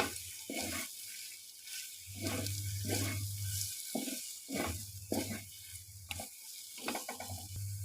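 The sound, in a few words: stirring fried potatoes into cooking spice masala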